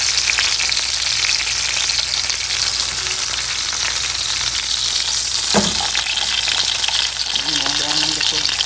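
Chicken pieces being turned to brown in a pan: a loud, steady sizzle and crackle of frying fills the whole stretch, with a brief clatter of turning midway and no voices.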